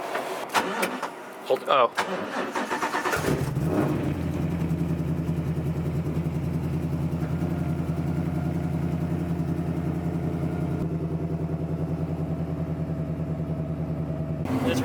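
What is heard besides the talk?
race car engine starting and idling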